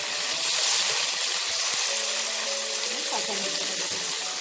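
Chopped tomato goes into a hot pan of browned onion, ginger and garlic for Bengali masoor dal tarka, giving a loud, unbroken sizzle with a faint tonal hum beneath.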